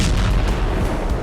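An S-60 anti-aircraft gun fires shells at a Russian army position in the war in Ukraine, a continuous loud rumbling roar of heavy booming blasts filling the whole short stretch, with no voices.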